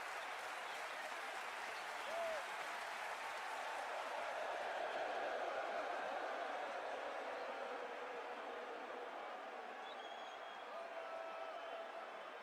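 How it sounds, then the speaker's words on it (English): A large stadium crowd at an India versus South Africa cricket match roars and applauds after a big hit, producing a dense, sustained wash of cheering that swells in the middle and carries on steadily throughout. "The crowd is going wild"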